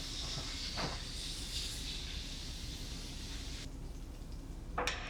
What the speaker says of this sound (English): our canola oil goes into the pan, followed by the remaining half of that ginger